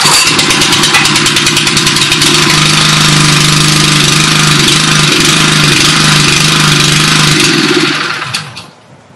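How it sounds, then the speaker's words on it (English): Westermann Honda WR870 moss brush engine catching and running, a loud close small-engine roar with a rapid steady rattle that holds for several seconds before abruptly cutting off near the end. "To start the machine, we push the throttle to the start position, we depress the Deadmans handle and pull the starter cord."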